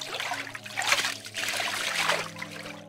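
Water trickling and babbling in a small brook, a steady light burble with two gentle swells, heard alone beneath faint background music tones.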